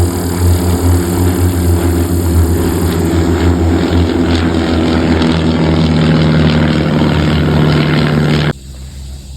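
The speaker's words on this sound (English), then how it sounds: "Oh, and we get a little plane show too." A propeller airplane passes over a backyard garden, its loud droning engine hum steady and close for several seconds before cutting off abruptly near the end.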